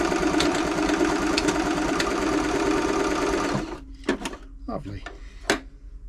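A Brother LS 2125 domestic sewing machine runs steadily for about three and a half seconds with a fast mechanical whir and needle rhythm, then stops, leaving a few scattered clicks and handling knocks.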